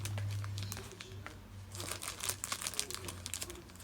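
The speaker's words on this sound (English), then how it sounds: "Open the tape." Packing tape is peeled and torn off a sumikko package, a run of close, crinkly ripping and crackling noises that grows busier toward the end, with a low hum underneath.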